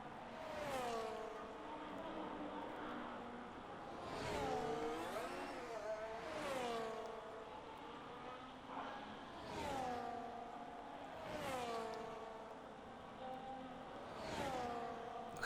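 A race car engine on a flying lap in a racing video game wails and revs up through the gears, pitch climbing and dropping repeatedly as it brakes and accelerates through turns, steady and fairly close.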